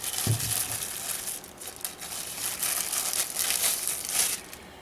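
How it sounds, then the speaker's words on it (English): Packaging for a PEEIPM WiFi security camera crinkles and rustles softly while being unwrapped, with a brief bump near the start and scattered crackles throughout. "let's go ahead and unwrap this."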